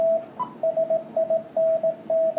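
Shortwave radio on 18 megahertz receiving transmissions as a steady stream of Morse code beeps, short and long tones in an irregular rhythm over a faint hiss.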